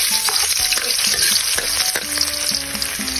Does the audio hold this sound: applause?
no